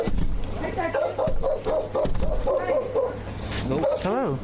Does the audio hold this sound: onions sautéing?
no